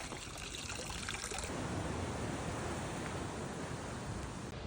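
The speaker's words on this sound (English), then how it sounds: "I found what I was looking for, which is a fountain. Fill up my water" Water trickles steadily from a public fountain in France while a bottle is filled on a hike of the Tour du Mont Blanc, a continuous close splashing hiss that thickens and deepens after the first second or so.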